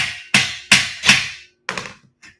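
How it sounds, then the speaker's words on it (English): Five sharp hammer strikes knock garage shelving parts into place, the first four strong and evenly spaced, the last one softer after a pause, each ringing briefly and close. "so that you can use the hammer"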